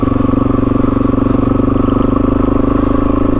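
A motorcycle engine lugs in second gear through sand, a loud, close, rapid pulsing thrum held steady at low revs throughout.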